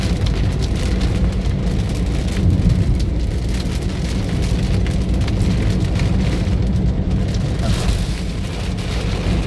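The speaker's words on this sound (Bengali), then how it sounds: "এই যে মুষলধারে বৃষ্টি হচ্ছে।" Heavy rain drums steadily on a vehicle travelling along the road toward Dhaka, a dense loud hiss of drops with road rumble beneath, unbroken throughout.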